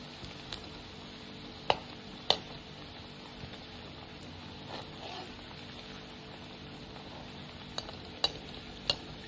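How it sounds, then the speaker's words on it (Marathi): Chicken bread keema rolls deep-frying in hot oil over a high flame, giving a soft, continuous sizzle broken by a few sharp clicks and taps, quiet and close without any talk. "त्याला फास्ट गॅसवर तळायचं, हाय फ्लेमवरच."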